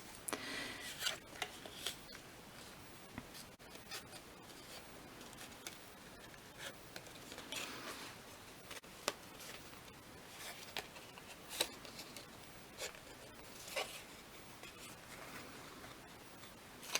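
Paper card pieces for a slider box are folded and creased by hand, giving soft, close rustles, rubs and occasional sharper crinkles at an irregular pace, faint and without talk.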